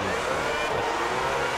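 Race car engines in the F1 2010 video game at the start of the Bahrain race, a dense steady roar of multiple engines revving together, loud and continuous.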